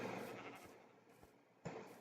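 Sheep bleating in a blocky floating-islands video game world, a few faint short calls spread across a quiet stretch, with one sharper bleat near the end.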